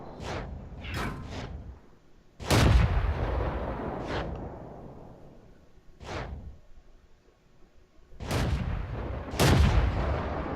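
Tank cannon firing from a British Comet Tier 7 medium tank in World of Tanks: several sharp, heavy booms spaced a few seconds apart, with lighter distant shots and rumbling decay between them.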